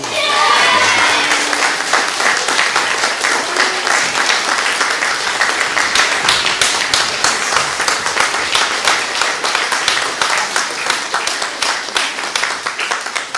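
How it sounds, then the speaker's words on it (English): An audience at a school speech day applauds for the winning patrol, steady sustained clapping from many hands filling the hall, loud and even throughout with a few faint voices mixed in. "I expect to hear enthusiastic applause, even a cheer if you like, for the patrol that won it"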